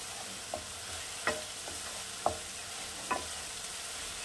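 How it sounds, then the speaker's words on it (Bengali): Onions fry in a pan with a soft continuous sizzle, broken by about five distinct scrapes and knocks of a spatula stirring them at irregular intervals. "আর একটু ট্রান্সপারেন্ট হবে পেঁয়াজটা, ততক্ষণ পর্যন্ত আমি এটাকে নাড়তে থাকবো"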